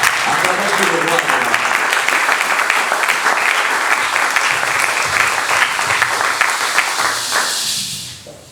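A church congregation claps and cheers in a long, loud, dense roar of applause that fills the room, then fades away at the end, with a voice heard among it.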